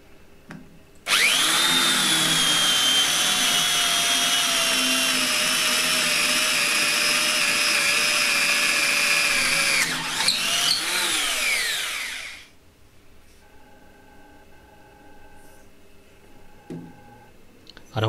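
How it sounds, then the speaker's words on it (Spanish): A Skil 6224 drill strains while drilling, giving one long loud motor whine that holds steady for about eleven seconds, wavers near the end, then winds down, followed by quiet background noise. "Al skill, sin embargo, le cuesta un poco más taladrar."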